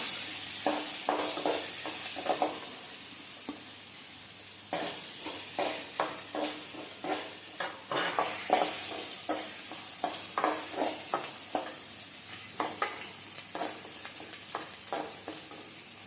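Onion and three green chilies frying in oil in a pan, with a steady close sizzle and repeated scraping stirs throughout, no talk.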